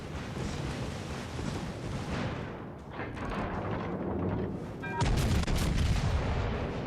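Ship guns fire shells in the naval battle game World of Warships Legends, a dense rumbling barrage of booming blasts that swells into a louder, sharper salvo partway through, heavy and continuous.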